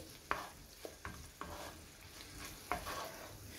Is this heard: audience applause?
no